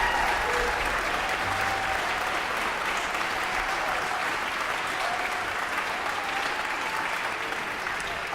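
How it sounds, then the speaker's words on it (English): A concert audience claps steadily and loudly, a dense, even wash of applause that holds without pause from start to finish. "can we give a special round of applause for our guests from the Kids for Harmony program"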